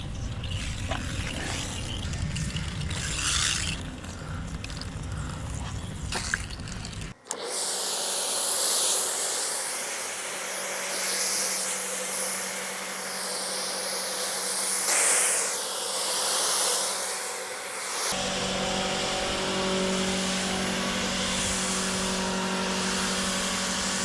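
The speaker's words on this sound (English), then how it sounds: "testing the new chemical sprayer from Autoglym to see how far around the car I can get with it fully pumped" An Autoglym pump chemical sprayer hisses out a steady pressurised spray around a car being deep cleaned outdoors, a loud continuous jet that changes character partway through and runs with no talk.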